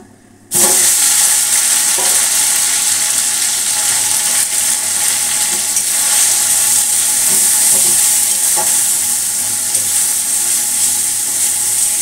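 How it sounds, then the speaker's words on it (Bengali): Pumpkin leaves sizzle loudly in hot oil tempered with black cumin from a sudden start, a constant close hiss with occasional scraping as they are stirred. "কালো জিরা ফোড়ন দিয়ে এটা এখানে মানে গরম তেলে দিয়ে নাড়বো"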